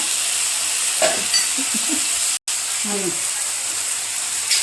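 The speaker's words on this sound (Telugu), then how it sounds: "ఇది బాగా వేగుతున్నాయి కదా" Ingredients for a pickle fry in a pan, giving a steady bright hiss and sizzle that is close and fairly loud. A voice speaks briefly over it, and it cuts out for a moment midway.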